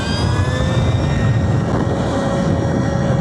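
A Surron Light Bee 2 electric dirt bike accelerates on turbo, a loud, steady, rising whine with a high motor tone over rushing wind noise, close and unbroken throughout.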